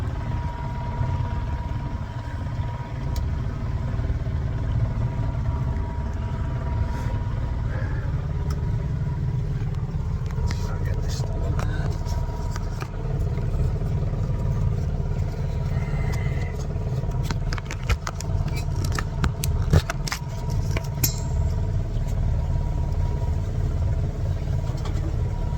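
A newly repaired boat engine running out on the water, a steady low rumbling drone heard close throughout, with light rattles and clatter over it and no talk.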